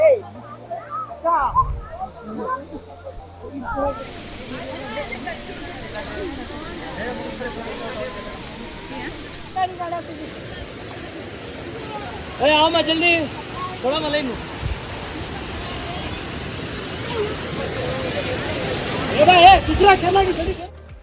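Jhari Falls in Chikkamagaluru, Karnataka, makes a steady rushing hiss of falling water that holds constant through the scene, with people talking over it at intervals.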